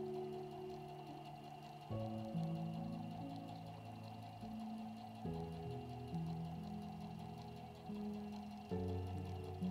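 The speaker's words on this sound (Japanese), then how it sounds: "ミシンで最初に縫います" A sewing machine hums and whirs steadily while stitching through a quilt top layered with batting for a tote bag, its pitch shifting in several stages as the stitching speed changes, with no voices.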